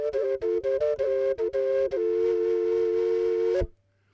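Both pipes of a homemade plastic double flute sound together in two-voiced harmony, first as a run of short rhythmic notes, then a long sustained chord ending abruptly, played close and loud with no talking.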